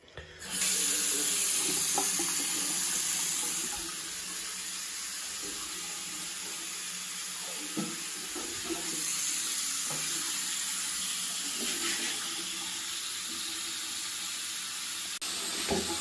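Water backing up in a shower drain that empties too slowly to a septic tank gurgles and rushes steadily, a soft continuous flow with occasional bubbling pops, quiet and fairly close.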